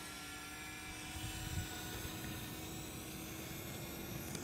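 A DJI Mavic Mini drone climbs in a helix around people outdoors, its small propellers giving a steady, high buzzing whine that holds fairly constant in volume, with no talking.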